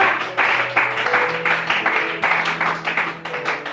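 A church congregation at a French-language service applauds in loud, close, rhythmic waves of clapping, each surge swelling and fading, with no talking.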